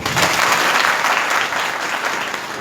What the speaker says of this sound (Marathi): त्यांच्याकरता टाळी वाजवा.